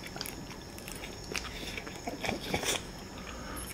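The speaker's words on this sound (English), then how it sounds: "when you're chewing cabbage, you can hear that" Crunchy cabbage being chewed and bitten during a very spicy seafood papaya salad eating session, with repeated wet crunches and bites at an even, close-up rhythm.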